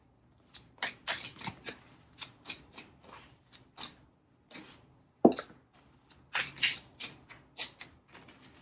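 Playing cards being shuffled by hand in a quiet room, a series of crisp riffling and slapping bursts in quick succession with short pauses between them, close and clear with no talk.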